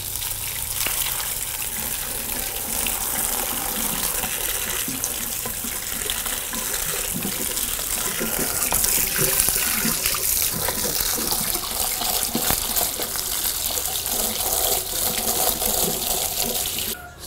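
Starfruit and moringa leaves are washed under a running tap, a loud steady gush of water splashing into a sink throughout, with small shifts as the produce is moved and no speech.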